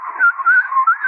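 A beatboxer's mouth whistle imitating a recorder, giving a clear, close, breathy tone that wavers and slides between pitches in a continuous melodic line, with no talk.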